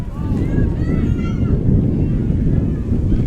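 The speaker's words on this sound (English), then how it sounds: "Strong gusts of wind." Strong wind gusts buffet the microphone at an outdoor mixed masters ultimate frisbee match, a steady low roar filling the whole clip with faint voices and tones in the background.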